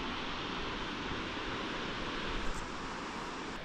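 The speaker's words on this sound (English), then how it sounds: "Wow, this waterfall is absolutely stunning." A waterfall in Grampians National Park roars as a constant, broadband rush of falling water, close and steady, with no other sounds breaking through.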